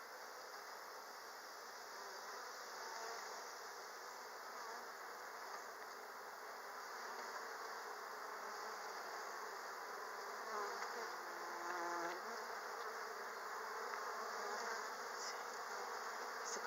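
Dense, steady buzzing of many bees swarming around an open hive, a close, continuous drone holding for the whole stretch with slight swells in intensity.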